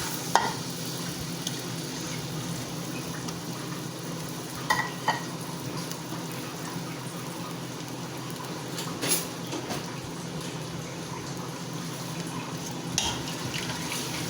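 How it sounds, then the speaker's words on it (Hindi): Onions fry in oil in a pan for aloo gosht, a soft, steady sizzle with a few louder scraping stirs, close but fairly quiet and with no talking. "प्याज हमारा फ्राई हो रहा है"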